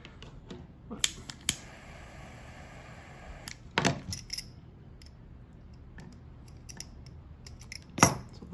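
Scissors cutting paracord for a key organizer: a few quiet, sharp snips and clicks spaced out over several seconds, close to the microphone with faint background.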